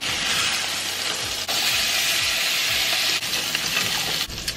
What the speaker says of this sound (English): And we're cooking the couscous, allowing the butter to melt to the couscous browns